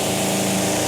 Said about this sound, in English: a big engine over rev there